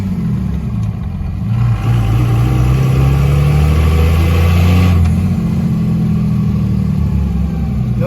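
A 2nd-generation Cummins diesel truck engine runs close by with a low, steady exhaust rumble and a slight rise in revs partway through.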